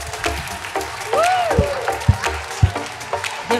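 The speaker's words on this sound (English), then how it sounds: "Everybody give them a big round of applause." A school audience of young children and adults claps, sparse and uneven at first, with a few loud hand claps standing out, scattered chatter and a high whoop rising over the applause.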